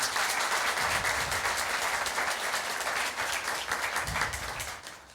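A television studio audience claps loudly for a judge at a talent contest, dense and continuous applause that holds strong before easing slightly at the end.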